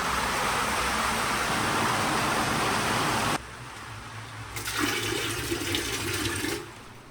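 A toilet flushes loudly in a guest room in Pangasinan, Philippines, a strong rushing gush that stops suddenly, followed by quieter trickling and refilling water.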